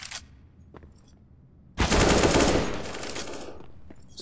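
A sudden burst of rapid automatic gunfire in CS:GO on Dust 2 erupts after a quiet stretch, loud and close, then trails off into a ringing decay.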